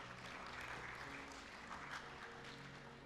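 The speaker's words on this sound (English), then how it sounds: "Round of applause, please." An audience at a closing session of a creative architects event gives a sustained round of applause, dense and even but heard at some distance and fairly quiet.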